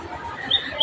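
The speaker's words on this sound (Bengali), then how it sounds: "কি সুন্দর পাখি ডাকতেছে, শুনতে পাইছেন?" A few brief, high bird chirps ring out faintly over a soft background hush.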